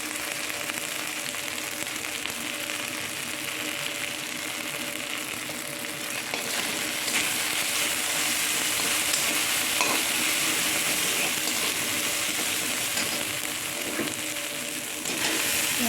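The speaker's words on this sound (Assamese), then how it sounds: "এই বইল আলুখিনি এতিয়া অকণমান ভাজি ল'ম" Boiled potatoes frying with turmeric in a pan for a mustard fish curry, a steady sizzle under repeated stirring scrapes, growing slightly louder midway, no voices.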